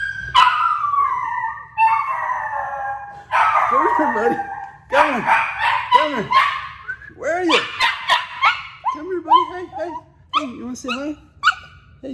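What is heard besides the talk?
dog howling and vocalizing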